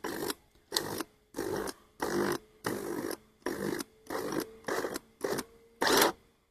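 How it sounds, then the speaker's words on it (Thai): An electric blender runs on its lowest speed, chopping leaves in water, in about ten short pulsed bursts of whirring motor, each roughly half a second, separated by brief gaps, close and fairly loud. "ผมจะกดที่เบอร์หนึ่งนะครับ เบอร์หนึ่งจะปั่นไม่แรงนะครับ"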